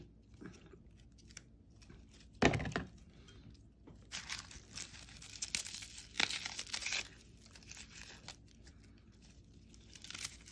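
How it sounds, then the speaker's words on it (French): Onions are peeled by hand in a kitchen, with soft tearing and crinkling of papery skins in irregular bursts and one sharper crack, faint and close. "On va peler les oignons."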